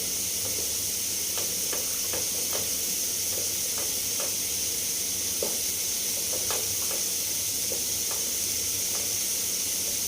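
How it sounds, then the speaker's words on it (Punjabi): A wooden churner works saag as gram flour is added a little at a time over a low flame, giving soft, irregular knocks and thumps over a steady hiss from the cooking pot. "ਹੁਣ ਆਪਾਂ ਇਹਦੇ ਵਿੱਚ ਥੋੜਾ ਥੋੜਾ ਕਰਕੇ ਨਾ ਵੇਸਣ ਪਾ ਲਾਂਗੇ ਇਹਨੂੰ ਆਪਾਂ ਘੋਟ ਲਾਂਗੇ"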